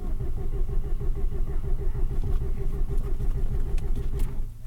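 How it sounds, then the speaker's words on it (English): A newly fitted car engine with oil in its coolant cranks and runs roughly, giving a steady loud low rumble throughout with a faint rise as the throttle is opened, then cutting off at the very end. "this is it starting. And I can give it more gas."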